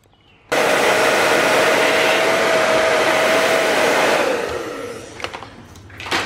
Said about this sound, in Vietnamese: Để mình lấy máy sấy tóc đã.